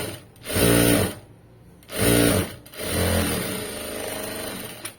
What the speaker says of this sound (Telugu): ఇలా నీట్గా స్టిచ్ చేసుకుంటూ వెళ్ళిపోవాలి